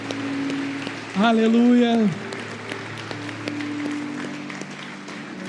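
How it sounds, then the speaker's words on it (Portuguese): A church congregation claps throughout, a steady wash of applause, while a voice calls out briefly over it near the start. "Dê uma salva de palmas a Jesus."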